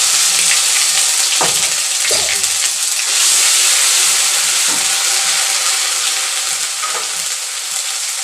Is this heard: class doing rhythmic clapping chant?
no